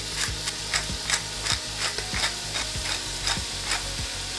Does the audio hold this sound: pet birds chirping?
no